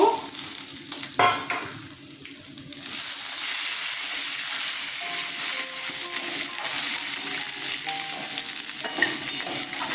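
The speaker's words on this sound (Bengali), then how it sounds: "কাজু কিশমিশ ভেজে নেব" Steady, loud sizzling of nuts and raisins frying in hot ghee, with a few stirring clinks early on before the frying settles into a continuous hiss.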